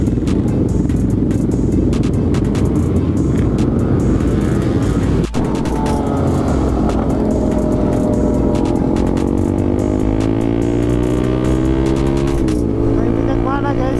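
Cars and motorbikes sit jammed in heavy Sunday-morning traffic on Pettarani road in Makassar. Loud, close engines drone without a break, with rising and falling revs from bikes pulling nearby.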